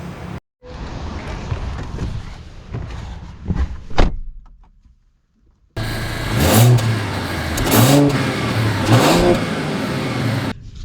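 A 2024 Mercedes-Benz E450 pulls away, its engine rising in a clear, loud rev after a brief thud and a moment of near silence, with the pitch climbing and surging as the car accelerates.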